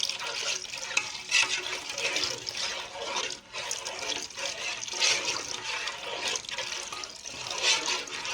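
Water poured into a cooking pot while making curry: a steady, continuous splashing and gushing stream lasting several seconds, close by with no talking.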